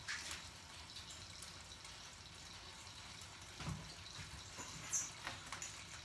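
Batch-sparge water drains into a brew pot for a farmhouse lavender ale, a continuous soft running trickle with a few louder splashes near the end, no voices.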